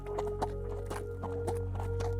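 Animated horse hooves clip-clop in a light, irregular series of distinct knocks over a low steady hum, fairly quiet and unaccompanied by speech.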